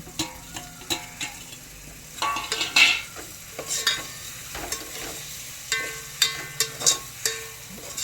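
Tomatoes frying in a pan in a village kitchen, with a continuous sizzle under sharp clicks and scrapes of a spoon stirring against the pan, close and moderately loud.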